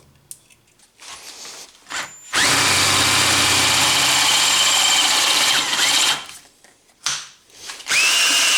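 A power drill bites into a leftover piece of aluminum in two long loud whirring bursts, separated by brief pauses and quieter handling noises.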